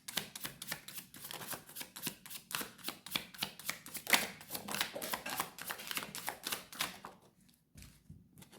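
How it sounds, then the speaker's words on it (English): Tarot cards riffled and shuffled by hand in a quick, steady run of crisp papery flutters, close and fairly soft, easing off near the end with a few scattered taps. "Let's pull some cards."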